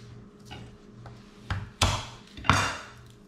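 A knife chopping garlic on a board while carnitas are being prepared in the kitchen: a few uneven, close thunks, with the last three strikes loudest and spaced roughly half a second apart.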